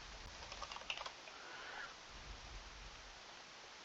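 Someone types on a computer keyboard in a quick cluster of light clicks, followed by a lighter, quieter patter of keys over a soft room hiss.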